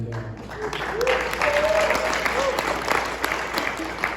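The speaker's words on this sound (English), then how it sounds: "really the applause goes to her" Audience applause at an Americana folk music gathering, a dense, steady wash of clapping filling the room for several seconds, with cheers and a voice or two rising above it.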